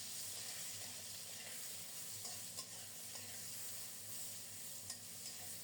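Young brinjal pieces with a little turmeric powder frying in a pan give a steady, even sizzle that runs throughout, with a few faint clicks and no voices.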